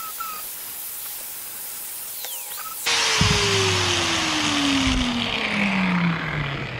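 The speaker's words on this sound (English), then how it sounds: "I cut it a little big because I'm going to sand the edges" Rotary tool sanding the cut edges of a homemade boat hook: a faint hiss gives way to a loud, steady grinding whine that holds to the end, with no voices.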